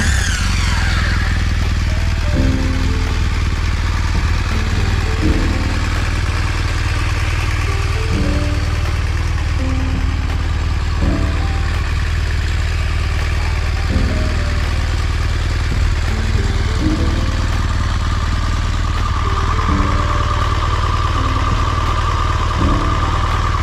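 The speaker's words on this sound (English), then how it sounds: "it's a 1200 GS, 1200 cc, 2-cylinder motor" A BMW R 1200 GS motorcycle with a 1200 cc two-cylinder boxer engine runs steadily and loudly up close, its low throbbing idle continuous with occasional light blips and mechanical clatter.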